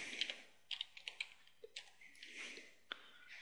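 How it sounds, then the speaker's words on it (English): Quiet keystrokes tap on a computer keyboard in short irregular bursts with small gaps between them, close and soft, with no voices. "now what we have to do is just type in PayPal here"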